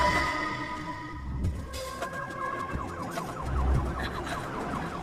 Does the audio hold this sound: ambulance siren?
yes